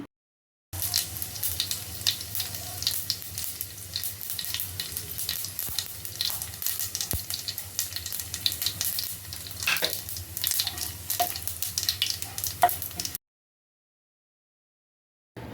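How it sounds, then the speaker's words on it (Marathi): Mustard seeds and cumin splutter and sizzle in hot ghee for a masala khichdi tadka, a steady crackling fry with sharp pops scattered throughout, close and fairly loud, then stopping abruptly near the end. "मोहरी चटकते तोपर्यंत आपण इथे एक चमचा जिरं टाकायचं आहे"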